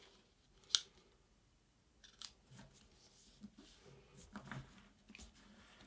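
A sheet of paper is folded and creased into an F-41 Silk Shark jet paper airplane, giving faint, sparse crinkles and one sharp crisp snap early on in a quiet room.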